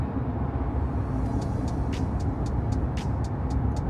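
Steady road traffic rumbles near Angel Stadium on the way to Montclair, California, with cars passing in a continuous low drone and brief higher hisses from tires or brakes recurring through the stretch.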